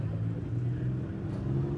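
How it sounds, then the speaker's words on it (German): A super stock class pulling tractor's diesel engine rumbles and drones at a tractor pulling event in Anholt, a dense low roar with slight rises in pitch, heard from a distance amid crowd noise. "der neue Motor arbeitet."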